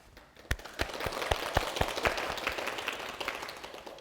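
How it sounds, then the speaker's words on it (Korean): A scattering of claps builds into applause from a small crowd at a Buddhist dharma service, with a few loud individual claps standing out near the start before it settles into a steady patter. "그러면 큰 박수로 보사님을 모시겠습니다."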